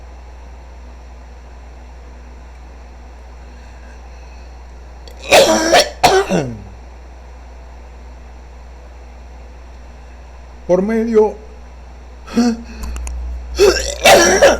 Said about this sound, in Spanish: pido excusa por esta tos